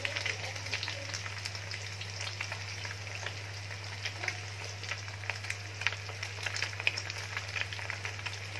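Sheep tail fat sizzles and crackles steadily in a pan as it slowly renders into ghee, with continuous bubbling and scattered pops at a moderate, close level.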